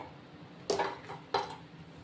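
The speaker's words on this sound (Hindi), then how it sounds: "चम्मच लगाकर हम आंवलों को चेक कर लेते हैं।" A steel spoon pokes into cooked Indian gooseberries (amla) in a cooking pot, giving two short clinking metallic taps about half a second apart, close and clear against quiet background.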